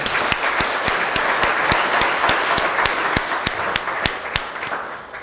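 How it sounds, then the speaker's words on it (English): Audience at a law school intellectual property symposium giving a round of applause, a dense crowd of clapping hands punctuated by a few sharp, regularly spaced louder claps nearby, steady for the whole stretch. "Can you join me in a round of applause for them?"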